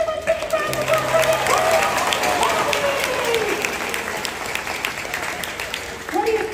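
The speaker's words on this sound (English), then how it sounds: "everybody give a big round of applause for" An audience applauds a contest winner at Mystic Aquarium, a burst of clapping and crowd noise while an announcer talks over it.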